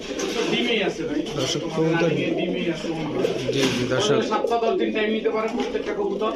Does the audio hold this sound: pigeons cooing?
yes